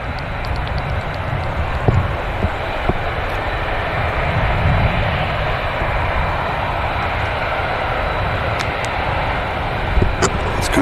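An airliner rolls down the runway at Manchester Airport on departure, a steady broadband jet roar holding at moderate distance for the whole stretch, with faint voices occasionally over it.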